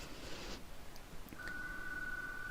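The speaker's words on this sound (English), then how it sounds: "There's the phone" A home phone rings with a steady electronic tone that starts partway through and holds, fairly quiet over faint background hiss.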